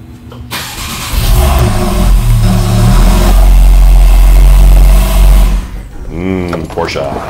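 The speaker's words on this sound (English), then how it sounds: "now we're going to see if the car starts" A Porsche 911 of the 991 generation, fresh battery fitted, cranks and fires, then its engine settles into a loud, sustained rev before dropping away, with people talking over the last seconds.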